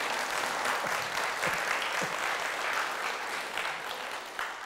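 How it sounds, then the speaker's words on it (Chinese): Applause from an audience at a Buddhist ceremony for taking the Three Refuges and Five Precepts, a steady dense patter of many hands clapping throughout, fairly loud and even, with no voices over it. "你们太优秀了，给自己鼓掌一下"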